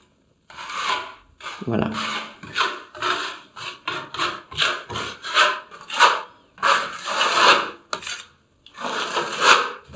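A filling knife spreads heavy filler over a wall where tiles were removed, making loud, repeated rasping scrapes in quick irregular strokes for several seconds, and a voice speaks a word near the end.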